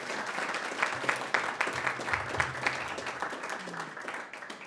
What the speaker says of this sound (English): we're going to give all three of you one more round of applause